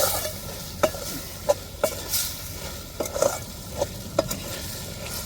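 Dried masi fish tossed with masala powder in a frying pan, a spoon scraping and knocking against the pan in sharp, evenly spaced strokes over a soft, low sizzle.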